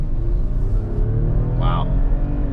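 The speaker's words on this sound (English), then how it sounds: "I'm gonna accelerate just the way that I did last time." Toyota Highlander with a Pedal Commander throttle controller accelerating, a loud steady engine drone with rising low tones heard from inside the cabin, no talk.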